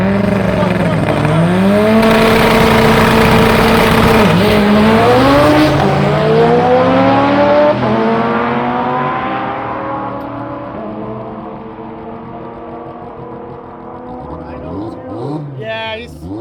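Twin-turbo LS-swapped Toyota Starlet launches down a drag strip, its loud engine sweeping up through the gears with rising revs before fading into the distance as onlookers talk nearby.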